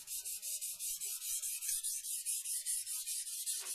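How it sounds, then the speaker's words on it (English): A blade edge is ground while being sharpened, making a rhythmic, high-pitched rasping hiss in short repeated strokes, about five per second, steady and fairly quiet, with no one talking. "grind the edge"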